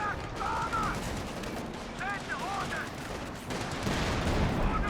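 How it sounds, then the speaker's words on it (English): Gunfire from a Panzer IV tank in Company of Heroes 2 on the Belgorod map, blended with scattered rifle and machine-gun shots in a sustained battle din, with brief voice tones over it. "Panzer IV opening fire"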